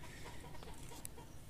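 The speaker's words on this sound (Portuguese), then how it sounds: "Olha os galos aí" Roosters in a backyard with trees and swings give clucking calls over steady outdoor background noise, one brief sharper call standing out near the end.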